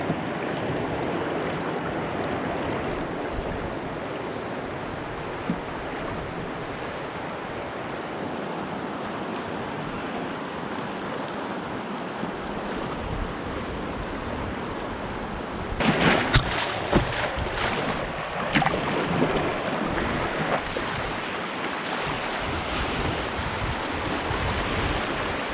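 Water sloshing and rushing around a canoe on a river with steady wind noise, growing louder and choppier partway through as it rides small waves.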